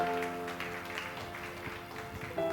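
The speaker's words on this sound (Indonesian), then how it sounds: "Beri tepuk tangan untuk Tuhan." Church congregation applauding together, a steady wash of clapping filling the room at moderate level, with sustained organ or keyboard tones held underneath throughout.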